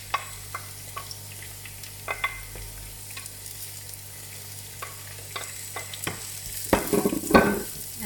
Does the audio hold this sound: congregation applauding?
no